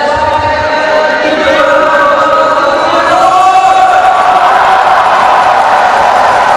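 A loud crowd cheers and roars continuously at a SEA Games water polo match between Singapore and Thailand, a dense sustained wash of voices with whistle-like tones and shouts rising through it.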